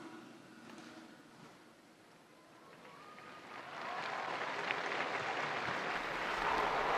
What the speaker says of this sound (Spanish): el aplauso de los fieles congregados en la plaza de San Pedro acoge la bendición del Santo Padre